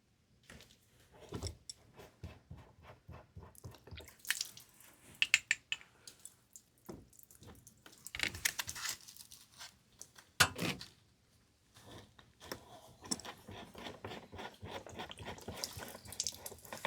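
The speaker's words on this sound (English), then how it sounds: "let the water drip, make sure there's nothing coming out of it" Water draining and dripping from emptied RV plumbing pipes after the drain plug is pulled during winterizing, with intermittent splashes and trickles in irregular bursts, close by and moderately loud.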